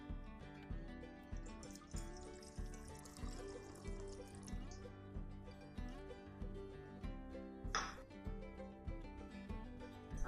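Water is poured onto sugar in a pan to make syrup for rasmalai, a soft, steady trickle running under a faint rhythmic musical backing, quiet and close.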